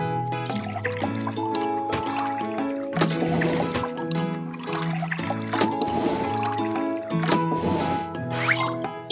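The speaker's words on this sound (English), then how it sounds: "Pour liquid into the correct tank." Bubbly, gurgling liquid pours and sloshes steadily into a tank in a children's car-repair video game, alongside layered electronic music with chiming game tones.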